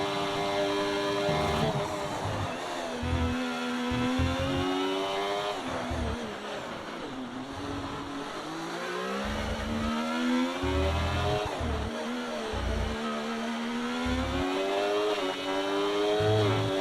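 A Ferrari Formula 1 car in an online racing game at Mexico City screams through repeated upshifts and downshifts, the engine note rising and dropping in a rapid, continuous cycle, loud and close, with no voices.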